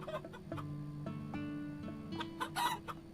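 Chickens in the video game Teddy's Haven cluck in a steady stream of nearby calls with a rooster-like crow mixed in, several overlapping bursts carrying on alone without speech.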